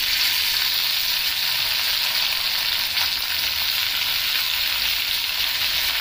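Chopped tomatoes sauté in hot oil in a pan, giving a loud, continuous hissing sizzle that stays steady and close throughout with no talking.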